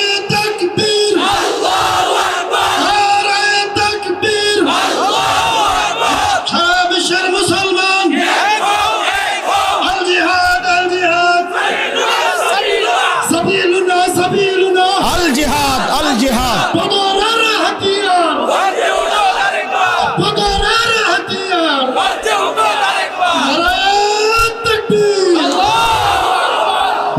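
A large rally crowd chants slogans in unison, loud and close, with a lead voice calling and many voices roaring back in a steady rhythm throughout.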